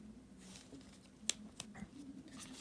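Stiff adjustment turrets on an FMA LA-5C device give two sharp, faint clicks about a third of a second apart, with a softer third tick after, against a low hiss.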